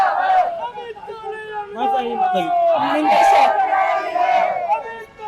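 Protesting farmers in Rajasthan chant in a loud crowd, with rhythmic shouted slogans and a rising roar of many voices close by.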